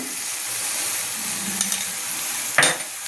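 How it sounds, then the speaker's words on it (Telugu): A ladle stirs gongura egg burji in a hot pan, with a constant sizzle underneath and a sharp metallic scrape near the end; no talking. "సాల్ట్ వేసుకొని మళ్ళీ ఒకసారి గంటితోటి మొత్తం ఇలా కలిపేసి"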